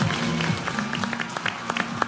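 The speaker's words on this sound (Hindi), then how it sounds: "बहुत सारी तालियां" Studio audience applauding the arrival of a guest on a Pakistani TV talk show, a steady dense wash of clapping with a low sustained musical tone underneath, lasting about two seconds.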